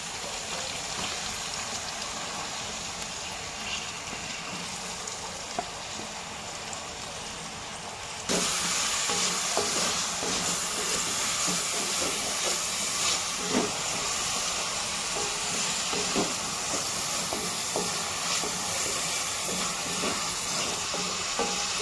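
Onions frying in a pan over a low flame for a special Maggi recipe, a steady broadband sizzle and hiss that grows louder partway through, with occasional soft stirring scrapes and no talking.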